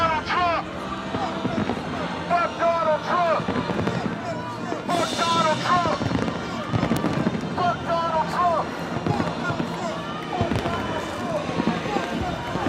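Fireworks going off outside the White House in Washington DC during street unrest, repeated popping and crackling bursts at a moderate distance, with people talking and shouting over them.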